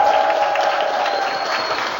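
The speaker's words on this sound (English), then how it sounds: "Can we give another huge round of applause" Audience applause fills an indoor community concert, a dense, even patter of clapping heard briefly from start to end.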